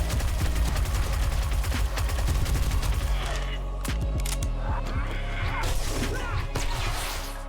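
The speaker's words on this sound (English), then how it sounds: "SMG comes to the rescue" Rapid bursts of SMG fire aimed at zombies in 7 Days to Die, sharp repeated cracks in quick rhythm, loud and close, with brief pauses between volleys and a few heavier impact thuds mixed in.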